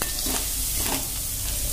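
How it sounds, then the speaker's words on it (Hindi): Garlic and chillies sizzle in hot oil with cumin seeds and asafoetida, a steady, close, dense frying crackle with stirring throughout the short stretch. "अब सबसे पहले लहसुन और मिर्चा डाल देते हैं।"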